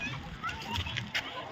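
People splashing in shallow water at Kotana beach near Vadodara, with scattered splashes under children's voices and chatter throughout.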